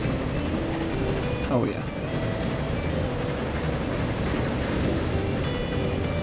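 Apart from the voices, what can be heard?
train running in video game Transport Fever 2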